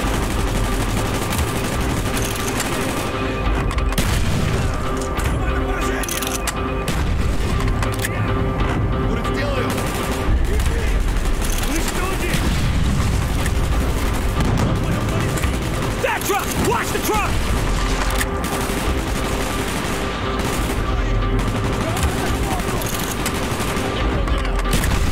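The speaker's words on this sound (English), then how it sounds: "Gunfire's drawing attention." Heavy, continuous gunfire and bursts of automatic weapons fill a Call of Duty: Black Ops combat scene, with loud shots rolling over one another throughout and voices faintly mixed in.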